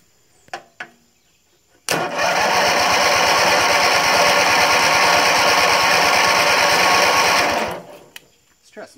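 A Bolens 3014H garden tractor engine cranks on its starter for about six seconds, a loud, rapid, steady chugging pulse that cuts off abruptly, with a few faint clicks and knocks before and after.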